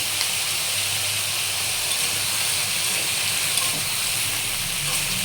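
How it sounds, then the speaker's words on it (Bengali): Potatoes and onions sautéing in a pan give a steady, even hiss of frying that holds at the same level throughout, with no talking. "এইটা আলু পেঁয়াজটা খুব ভালো করে কষিয়ে নেব, নরমও হয়ে যাবে আর একটু ভাজা ভাজাও হয়ে যাবে"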